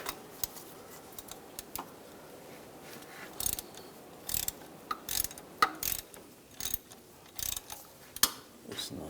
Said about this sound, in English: Underneath, using a 13mm socket, there's 2 screws.